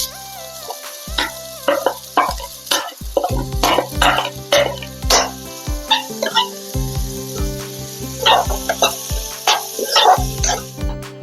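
Chopped onions frying in a pan with ginger and garlic for a mushroom dish, loud sizzling and crackling that rises and falls in bursts as the pieces are stirred.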